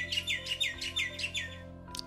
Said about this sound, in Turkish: Kuşlar da kalktı.